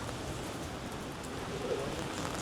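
Rain in a street in Akihabara, Japan, late at night, a soft, steady hiss of falling rain that runs evenly throughout and stays fairly faint, with no voices.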